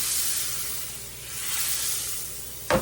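Butter sizzles in a pan with a soft, steady hiss, heard close and fairly quiet, ending in a brief louder clatter.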